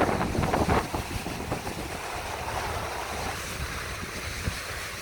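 Broadband rushing surf rolls in continuously on the coast of Bornholm island, with a louder wave crash near the start, all mixed with gusty wind buffeting the microphone.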